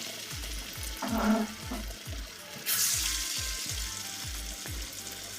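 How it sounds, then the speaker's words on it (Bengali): Lentil fritters seasoned with black cumin fry in a pan with a steady close sizzle, and a rhythmic series of soft low knocks plus brief louder spatters sound over it. "কালো জিরো সব কিছু দিয়ে মেখে বড়া ভেজে নিচ্ছি"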